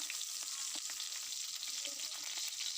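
Onion and garlic dropped into browned pork fat in a pan give off a steady, close crackling sizzle with dense spattering pops throughout, with no talking.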